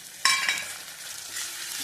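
Tomato pieces drop into hot oil with browned onions in a pan, bursting into a sharp close sizzle, then a softer steady frying hiss with light stirring.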